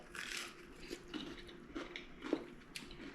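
Someone bites into and chews freshly caught, cooked fish with a crunchy outside, making a few faint crisp crunches and soft chewing sounds close to the mouth, quiet and without talk.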